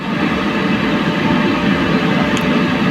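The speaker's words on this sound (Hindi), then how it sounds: "कोई रेलगाड़ी जब किसी पुल से गुजरती है, तो उसके गुजरने के दरमियान पुल में जो थरथराहट की आवाज़ होती है" A train crosses a bridge with a loud, steady, close rumble that holds evenly for about three seconds, with no voices over it.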